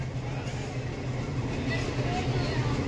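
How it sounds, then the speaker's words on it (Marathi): Coonoor to Udagamandalam toy train on the Ooty line, a steady close rumble of the carriages rolling along with passengers' voices talking over it throughout. "ही आहे toy train Coonoor to Udhagamandalam"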